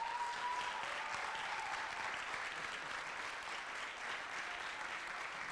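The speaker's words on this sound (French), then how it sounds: "On peut l'applaudir." Steady, dense applause from a seminar audience fills the room evenly, a continuous wash of many hands clapping at moderate distance with no talk over it.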